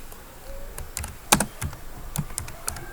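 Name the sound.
typing text on a computer keyboard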